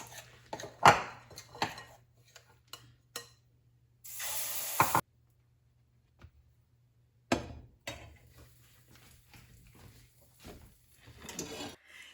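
Millet flour pancake frying in a pan: short bursts of sizzling hiss, one strong spell of spattering, and scattered clinks of a utensil against the pan in a quiet kitchen, with no talk.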